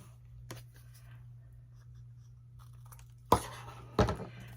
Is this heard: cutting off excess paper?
yes